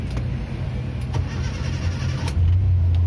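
A Suzuki Katana car engine starts with a cranking whir and catches into a steady idle that rises and settles. It is loud and close, with no talking.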